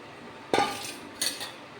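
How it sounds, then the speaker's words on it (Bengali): Fried prawns tip into a pot of Bengali curry with taro, followed by a metal spoon scraping and stirring. Two close clanks of utensil against the pot stand out over a faint background. "এখন এটার মধ্যে চিংড়ি মাছগুলি ঢেলে দিচ্ছি ভেজে রাখা।"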